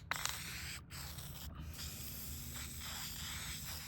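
Product sprayed onto the bare carpet inside a BMW E36 makes a steady, close hiss, broken twice by brief pauses before it carries on continuously.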